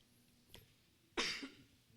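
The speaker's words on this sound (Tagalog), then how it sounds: "Hindi kasama yung ubo." A single short cough sounds in a quiet room during a church sermon, preceded by a faint smaller throat sound, fairly soft and isolated with no talk over it.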